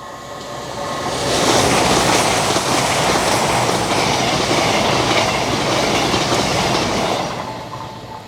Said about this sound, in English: there's a Voyager coming by